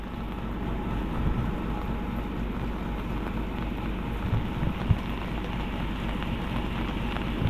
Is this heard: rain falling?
yes